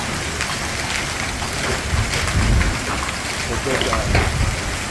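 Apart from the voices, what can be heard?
heavy hail falling outside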